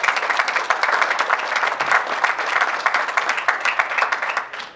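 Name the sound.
audience applause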